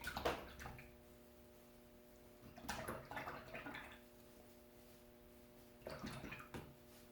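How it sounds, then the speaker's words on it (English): Paint brush swished and rinsed in a water container between colors, short faint splashing and sloshing bursts separated by quiet gaps, close and soft. "wash your brush, wipe it off thoroughly, and move on to the next color"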